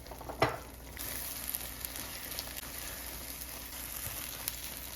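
Pupusas sizzle and fry steadily in avocado oil in a pan, a continuous close crackle with a sharper pop near the start and no talk.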